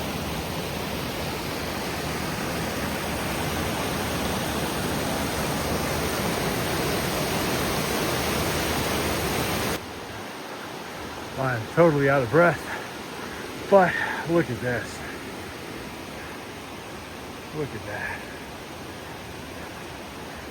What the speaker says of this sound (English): right behind me is a really cool water feature